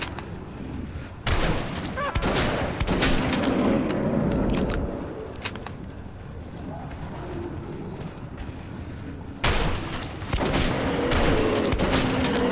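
Gunfire in the video game Metro 2033 Redux: loud bursts of automatic fire in two stretches, separated by a quieter rumbling passage with mechanical clatter, no talk over it.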